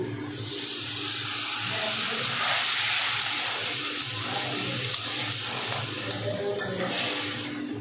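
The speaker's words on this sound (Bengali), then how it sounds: "এবার আমি এখানে সামান্য একটু জল দিয়ে দেব।" Water poured into a pan of fried vegetables with potatoes for an amrul greens dish, a steady broad splashing hiss with sizzle lasting throughout, close and fairly loud, with faint background clatter.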